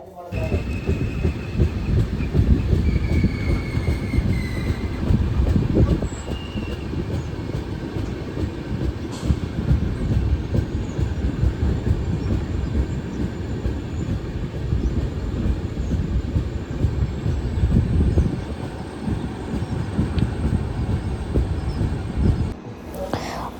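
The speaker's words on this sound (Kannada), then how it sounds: "ಟ್ರೈನಲ್ಲಿ ತುಂಬ ಸೌಂಡ್ಸ್ ಕೇಳ್ತಿತ್ತು." A train rumbles steadily along the rails throughout, a continuous low roar with rhythmic clatter from close inside the carriage.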